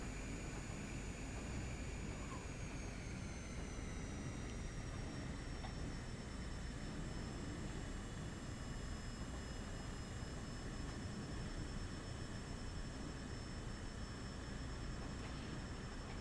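Steady, even drone of a Cessna Caravan turboprop in a flight simulator, cruising over Springfield, Missouri along Route 66, a constant broadband hum with a faint high whine held throughout, no talking.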